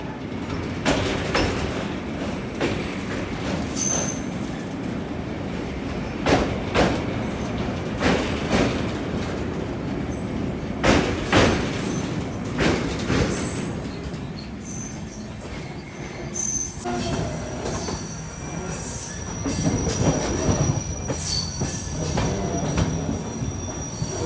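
An Amrit Bharat Express runs on rails with a continuous rumble of wagons, repeated clanks from wheels over joints and recurring metallic squeals, loud and close for the whole stretch, with no talk.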